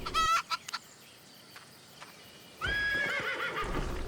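Chickens in the PC game Albion Online: a brief harsh animal call at the start, then a louder, sustained stretch of squawking and clucking over game ambience, with no talking.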